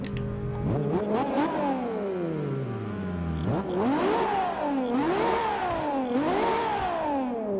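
A V12 car engine in Forza Horizon 2 revs hard over and over, each sweep climbing and then falling away as several loud rising and falling whines, with no voices.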